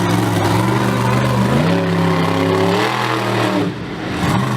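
Monster truck engine at a speedway show, loud and close, revving up through rising and falling harmonic sweeps while the truck slides through mud, with a brief dip near the end before the roar resumes.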